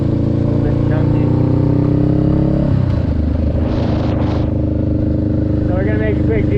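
A motorcycle engine runs at low RPM in low gear, a close, loud, chunky idle-like drone with steady rumbling tones that shift down partway through, with some rattling on top.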